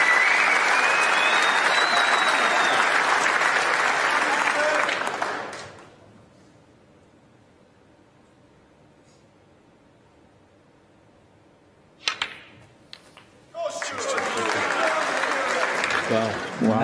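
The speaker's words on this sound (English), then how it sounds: "Round of applause." A snooker crowd at the 2022 Masters breaks into loud applause that fades to near silence, then a second burst of clapping follows, with a commentator's voice over it.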